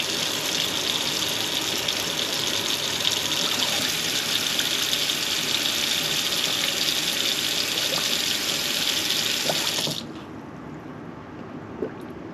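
Water runs loud and steady from a tap into a slow-draining, clogged kitchen sink, a constant close gushing rush that cuts off sharply near the end and leaves quiet room tone with a faint knock.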